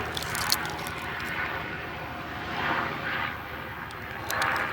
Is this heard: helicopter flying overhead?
yes